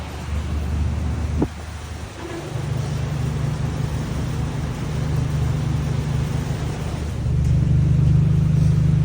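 A car engine runs on a dyno with a deep steady rumble, then a brief blip. It settles into a sustained drone that rises and grows louder toward the end as the revs climb.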